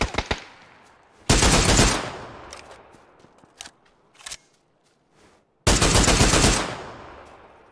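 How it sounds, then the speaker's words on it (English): Full-auto bursts from an SLR rifle in PUBG: a few sharp single shots open, then two long, loud, dense rapid-fire volleys separated by scattered quieter pops, with no talking. "Extremely difficult to shoot like that with an SLR."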